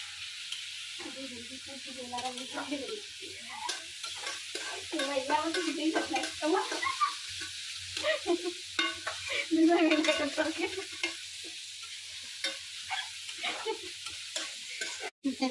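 Potatoes and onions sizzle steadily in a pan while a spatula scrapes and stirs in quick, irregular strokes. A faint voice is heard only briefly.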